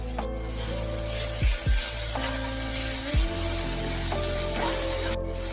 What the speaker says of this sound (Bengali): গ্যাসের ফ্লেমকে একেবারে সিম করে একটু ভাজতে দিলাম।